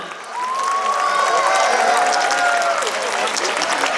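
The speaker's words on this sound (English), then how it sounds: "Big round of applause for Rajasthan." Audience applauding and cheering after a Rajasthani dance item at a Festival of Lights stage show, a loud continuous wash of clapping with whoops and shouts rising over it.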